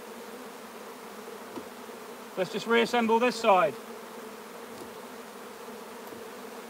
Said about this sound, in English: A lot of bees flying, a lot of happy bees